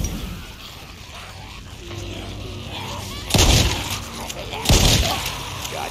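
Two loud gunshots in the zombie survival game Days Gone, spaced about a second and a half apart over low background game ambience, with a voice talking in the stretch before them.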